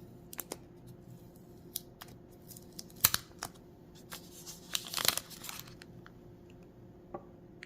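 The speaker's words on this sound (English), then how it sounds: "And I'm just going to remove this plastic piece." A plastic piece being pulled from the packaging of Tozo NC9 earbuds, heard as quiet scattered clicks, crinkles and snaps, close and intermittent, with one louder rustling burst midway.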